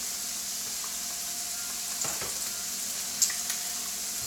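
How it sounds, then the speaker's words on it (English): Eggs sizzle steadily in a hot frying pan, a constant crackling hiss with a few soft scraping stirs. "See the sizzle."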